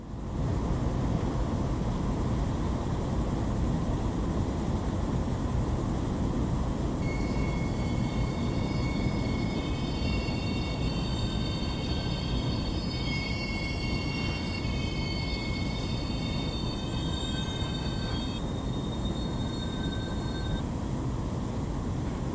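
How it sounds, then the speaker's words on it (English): A long container train rumbles past continuously in the Run 8 train simulator game, heavy low roar and rattling wagons, with a high metallic squeal of wheels rising midway. "Looks like a container train probably came from the port of Long Beach."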